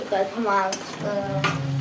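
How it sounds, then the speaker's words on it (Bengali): A spice paste of cumin, coriander, turmeric and chili powder sizzles in a pan while a spoon scrapes and stirs it in short, repeated strokes, close and moderately loud. "তো মশলাটা ভাজা ভাজা হোক"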